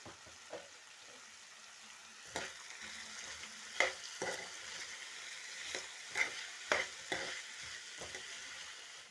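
Potato pieces cooking in a pan on a low flame, with a faint, soft sizzle under occasional scraping stirs and light clinks, quiet and close.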